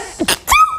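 One short human sneeze, a quick sharp intake and burst followed by a voiced tail, close to the microphone and loud, heard on its own without talk.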